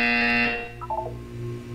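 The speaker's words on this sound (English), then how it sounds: "When you hear the buzzer, look down at the floor." Buzzer in the video game Portal 2, a loud harsh electronic drone lasting about half a second that cuts off into a few soft tonal blips and low hum.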